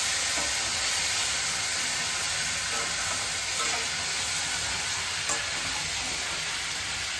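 Cumin seeds, bay leaves and spices sizzling in hot oil, a steady close, loud frying hiss with faint crackles and a small pop, continuous and without talk.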